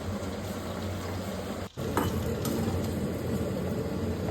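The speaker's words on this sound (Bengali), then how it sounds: "ওদিকে দেখো মা চিকেনের পকোড়াগুলো ভাজছিল" Chicken pakoras fry in hot oil in a wok, giving a continuous close sizzle with a brief drop in sound partway through and faint stirring clinks.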